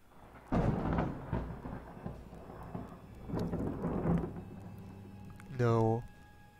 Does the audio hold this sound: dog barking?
no